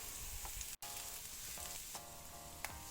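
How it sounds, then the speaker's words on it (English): Shallot and garlic frying in a pan over medium-low heat, giving a continuous soft sizzle with small crackles and a faint stir, heard alone and at a low level. "Continue to fry it with middle heat or even low heat."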